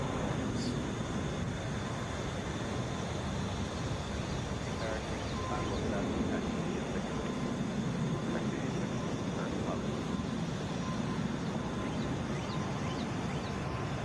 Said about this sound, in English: Flight 774 to Seattle, Boeing 757, the wheels are up.